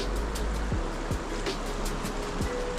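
Steady broadband rush of a river running over shallows with white caps, a continuous close wash of water with a few faint thumps beneath it.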